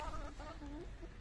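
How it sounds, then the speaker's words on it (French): A Pado Araucana rooster makes short, clucking calls in two or three close bursts, with a steady low farmyard rumble underneath. "Ce coq, c'est un coq Pado Araucana."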